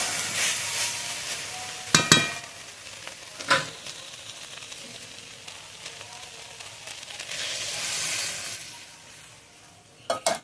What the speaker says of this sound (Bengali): এবার দিয়ে দেবো পরিমাণ মতো গরম জল।